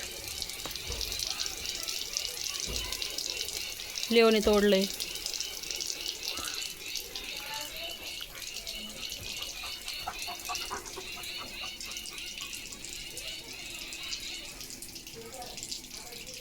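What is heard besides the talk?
tap water falling like a shower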